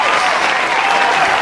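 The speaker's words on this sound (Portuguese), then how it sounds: "Depois das palmas." Loud, close applause from a studio audience on a Franciscan dialogue program fills the short moment as a steady, even wash of clapping with no pauses.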